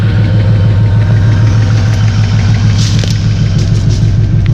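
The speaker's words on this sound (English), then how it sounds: "Got an exhaust leak at that back cylinder there. We're missing a header bolt. It must have rattled loose at some point." A car engine idles with a rhythmic ticking from an exhaust leak at a back cylinder where a header bolt is missing, the steady pulsing tick riding over a loud, close low rumble with no talk.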